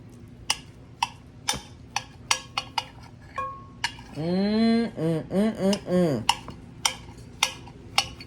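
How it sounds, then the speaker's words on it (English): Knife slicing through cooked corned beef on a cutting board gives a series of sharp taps and clicks, spaced evenly at first, and a brief stretch of speech falls partway through. "So I'm just going to take it and just do my slices like this."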